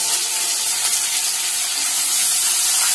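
Sliced onions sizzle in hot oil in a pan, a dense, loud, steady hiss up close with no pauses.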